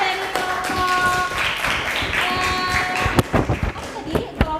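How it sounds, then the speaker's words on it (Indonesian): Scattered clapping and taps from a small group of students in a classroom amid room chatter, ending with a few louder individual claps. "tepuk tangan penjelasannya dari kelompok"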